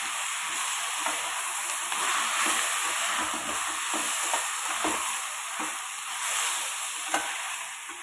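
Chopped chow chow (chayote) being sautéed in a hot pan for a spicy onion-tomato chutney, a steady close sizzle with soft scraping stirs throughout, no voices.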